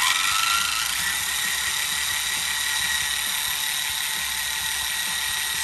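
Electric motors of a Tamiya Clodbuster RC truck running on throttle give a steady, high mechanical whine with a faint ratcheting gear texture that holds at an even, fairly loud level throughout.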